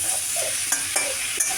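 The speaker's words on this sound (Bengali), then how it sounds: "আমি একটু বড়ি ভেজে ভেঙে ভেঙে দিয়ে দিচ্ছি।" Lentil bori pieces fry in white cooking oil with a steady close sizzle, broken by a few sharp stirring scrapes and clicks, and no voices.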